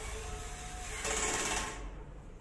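An electric screwdriver drives a screw while assembling an IKEA Hyllis shelf, a close whirring buzz that grows louder for about half a second before cutting off.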